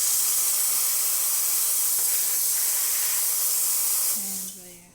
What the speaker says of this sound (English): And then show you the steam.